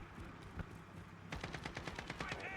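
Rapid automatic gunfire in a shooter game, a single shot followed by a quick burst of evenly spaced rounds, fairly close and crisp.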